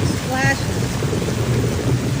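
Baseball-sized hail pounds down during a severe storm over Austin, Texas, a dense, continuous roar of impacts with no break; a brief voice rises near the start.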